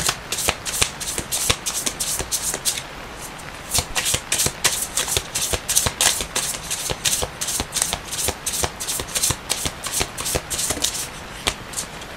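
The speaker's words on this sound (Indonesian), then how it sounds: "Kita langsung shuffle kartunya" A deck of tarot cards is shuffled by hand in quick riffling bursts, crisp papery flutters and taps repeating close to the microphone with brief pauses between shuffles.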